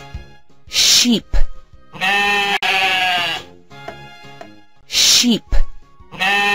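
Sheep bleating up close, several loud wavering bleats in sequence with short pauses between them, each call strong and clear.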